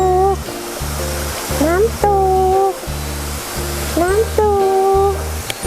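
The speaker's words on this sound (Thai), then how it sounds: "น้ำตก" Constant rushing roar of a waterfall in Khao Yai fills the scene at close range, with repeated tonal whistling sounds and a steady low rumble layered over the water noise.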